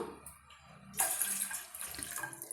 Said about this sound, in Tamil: ரெண்டு டம்ளர் அளவுக்கு நம்ம தண்ணி சேர்த்துக்கலாங்க